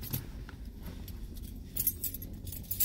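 A bunch of keys jangles and clinks in short, fairly faint bursts near a car, with steady low background rumble and no talking.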